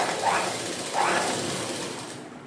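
A sewing machine runs steadily as a fall is stitched onto the edge of a saree, a continuous close mechanical whir with a couple of brief rises in pitch and no talking.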